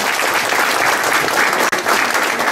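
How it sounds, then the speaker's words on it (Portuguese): A crowd claps loudly and continuously for a city councillor at an evening political debate gathering, the dense applause briefly dipping near the end before resuming. "Uma salva de palmas para o nosso vereador Valdir Rocha."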